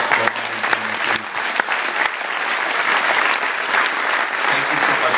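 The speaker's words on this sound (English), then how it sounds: "one more big round of applause for the Meinen family, please." An audience gives a big, dense round of applause at a community gathering, loud and sustained throughout, with voices faintly mixed in under the clapping.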